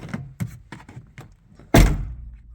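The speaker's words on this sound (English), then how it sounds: "All right, door test." A few light clicks and rattles lead up to a single loud, solid thunk of a Honda Del Sol door shutting, close by, followed by a brief fading rumble.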